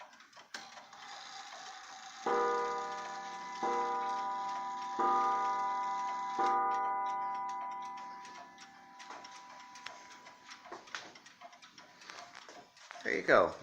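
Several antique black mantel clocks tick together, and a bell chiming the half hour rings out repeatedly in clear, decaying strokes. A brief clatter ends the passage.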